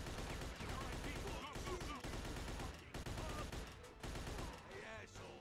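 Dense, continuous gunfire from a Mafia II shootout crackles throughout, rapid shots layered over one another with brief dips in intensity, while voices talk over the battle.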